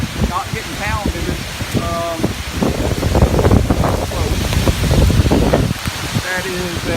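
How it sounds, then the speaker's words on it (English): Strong hurricane-force wind from Hurricane Irma roars and buffets the microphone in a sustained, loud gust, with rushing water and surf near a dock beneath it and someone speaking intermittently over the noise. "That is a pretty good gust there."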